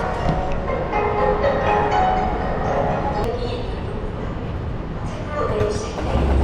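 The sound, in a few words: subway train arriving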